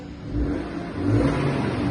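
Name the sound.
car engine running, exhaust note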